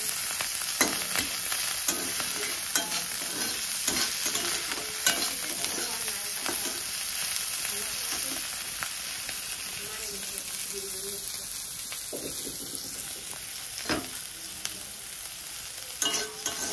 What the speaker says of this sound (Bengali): ওই যে করতেছি ছুরি মারা ফুল ভাজা